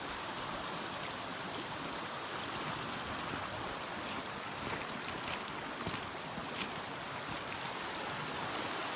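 Flowing water of Bryant Creek, a clear Ozark river running high after rain, a steady, broad rushing wash with faint splashes, continuous and even throughout.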